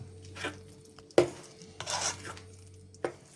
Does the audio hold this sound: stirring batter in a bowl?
yes